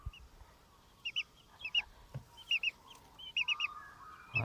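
Several chickens cluck in short, quick bursts, some doubled or tripled, fairly close against a quiet background.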